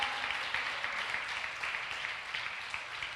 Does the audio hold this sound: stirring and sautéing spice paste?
no